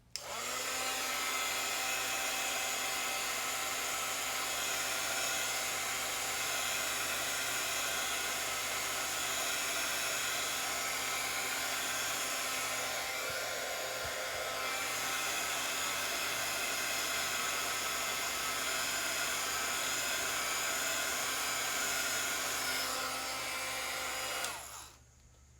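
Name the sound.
blow dryer running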